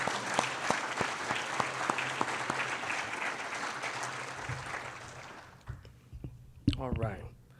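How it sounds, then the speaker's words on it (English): A crowd at a city's State of the City address applauds essential workers with sustained, full clapping that stops abruptly near the end, followed by a few sparse claps and a brief voice. "One more round of applause for our essential workers"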